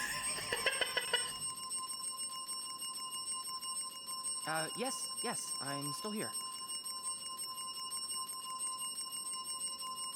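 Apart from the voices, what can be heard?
desk bell rung repeatedly in video game This Bed We Made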